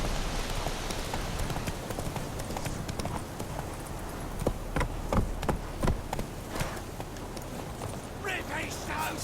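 Roach, the horse in The Witcher 3: Wild Hunt, gallops with quick, rhythmic hoofbeats over a steady rushing outdoor backdrop, while voices speak faintly underneath.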